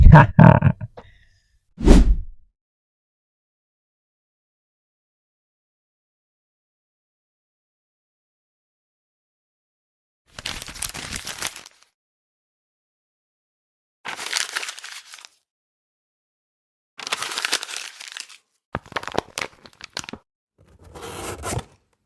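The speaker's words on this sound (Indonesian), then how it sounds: "Nah kali ini tuh asli bener-bener segel teman-teman. Dan ini spesial buat teman-teman, aku bakal unboxing di sini." Sealed package wrapping crinkles and tears in short separate bursts between long silences, close and fairly loud, with a couple of brief knocks at the start.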